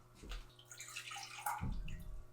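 Water poured into a container while making a pumpkin spice latte: a splashing, gurgling pour that swells and then settles, close by with no voices.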